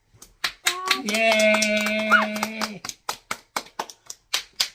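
Hands clap in a steady, even rhythm at a family New Year celebration in Birmingham, following a long sustained tone, with a brief voice near the start.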